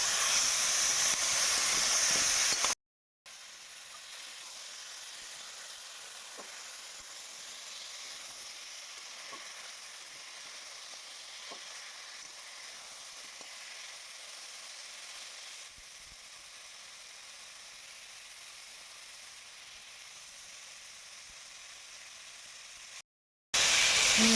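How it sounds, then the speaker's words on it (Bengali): Small sea fish (morola) and green chillies fry in a pan with a steady, even hiss and sizzle that holds at a constant level, broken only by a brief gap near the start and end. "কাঁচা লঙ্কা দিয়ে দিলাম। এটাকে আমি ভালো করে ভেজে নেব।"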